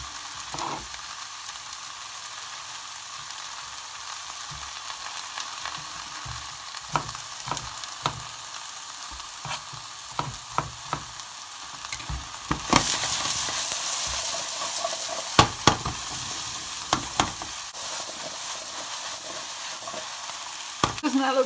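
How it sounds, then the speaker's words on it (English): Ratatouille vegetables cooking in a pan, a soft, steady sizzle with scattered clicks and utensil knocks that swells into louder, busier frying partway through as the vegetables are stirred. "All those vegetables in the pan all cooking away nicely, nice and noisy."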